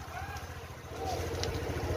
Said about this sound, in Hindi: तो गाइस ये रहा ट्रैक्टर